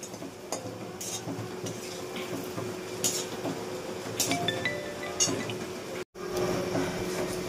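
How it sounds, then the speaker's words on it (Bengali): Nigella seeds and a green chili sizzle in hot oil with a steady soft hiss, while utensils clink and stir against the pan now and then, close by. "তো এই যে তেলের মধ্যে একটু কালো জিরে দিয়ে দিলাম, একটা কাঁচা লঙ্কা দিলাম"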